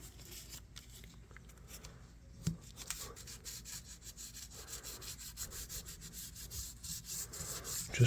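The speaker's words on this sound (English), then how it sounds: "you can get down in there and lightly sand" Sandpaper lightly rubs the brass liner of a vintage Kutmaster electrician's knife, a soft continuous scratchy hiss with small strokes and one brief tap near the middle, close and quiet.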